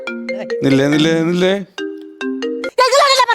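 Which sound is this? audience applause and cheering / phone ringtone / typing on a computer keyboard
phone ringtone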